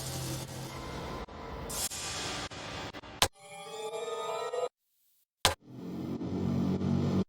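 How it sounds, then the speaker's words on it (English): Small rising sample effects in a space odyssey-themed electronic track, heard as swelling textures broken by sharp cuts and a brief silence before the next rise returns, moderately quiet, with no talking. "These are all just really small effects, rising samples."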